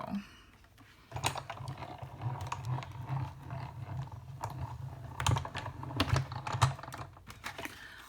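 Die-cut embossing machine cranking a die over card stock through its rollers, a low rumbling grind starting after a second of quiet, with scattered clicks and creaks, close and moderately loud.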